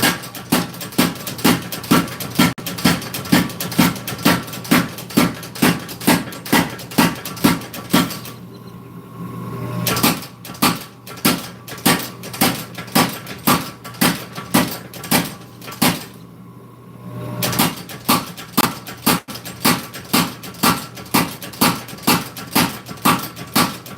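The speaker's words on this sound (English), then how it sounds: "this will be the last little bit we'll do on the power hammer" A power hammer pounds a kwaiken knife blade in rapid, steady metallic blows, loud and close, with two short pauses before the hammering resumes at the same even rhythm.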